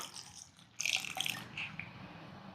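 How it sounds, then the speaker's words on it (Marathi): Water pours into a bowl of soaking matki dal, a soft splashing trickle that swells suddenly and keeps running for about two seconds over a quiet room. "तर याच्यामध्ये आपण पाणी ओतून घेऊयात"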